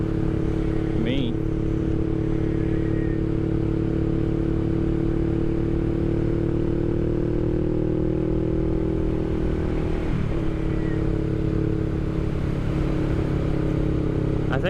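A 2023 Honda Rebel 500 motorcycle climbs a hill, its engine holding a steady low drone throughout with only slight shifts in pitch, close and continuous.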